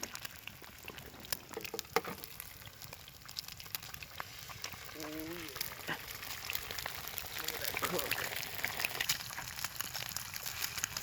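Eggs frying in a pan over an open outdoor fire for ham and egg sandwiches, with a steady broadband sizzle and crackle running throughout while people talk casually nearby.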